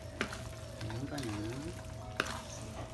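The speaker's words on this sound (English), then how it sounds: "Keep on stirring till you incorporate all of the sauce in your pasta." Carbonara pasta with egg sauce is stirred in a pan, a soft sizzle with two sharp utensil knocks against the pan and a faint voice murmuring briefly in the background.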